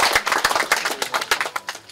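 Members gathered for a clan association's regular general assembly applaud to approve a motion, sparse and uneven claps from a modest group, distinct individual slaps rising and falling over a couple of seconds.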